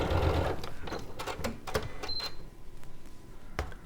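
A sewing machine stitches fabric blocks in quick bursts of mechanical whirring with sharp ticking clicks, pausing and restarting, heard close and fairly quiet.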